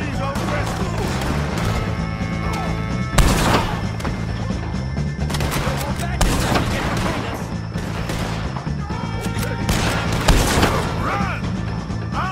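Gunfire from a shootout with enemies in Red Dead Redemption 2, sharp bursts and crashes landing at irregular intervals over a dense bed of game music and noise, with voices talking throughout.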